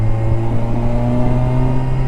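Engine of a Kawasaki Versys 1000 motorcycle with a six-speed gearbox, heard up close as a loud, steady drone that keeps pulling and rising slightly in pitch over a couple of seconds, with no talking.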